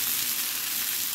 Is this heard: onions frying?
yes